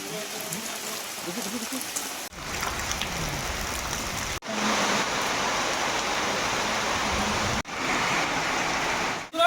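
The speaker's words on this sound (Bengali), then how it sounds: "বাইরে আবহাওয়া খুবই খারাপ, এখনো ভালো হয়নি, মুষলধারে বৃষ্টি হচ্ছে।" Heavy monsoon rain pouring down in a dense, steady hiss, loud and close, with a few abrupt cuts between stretches of downpour.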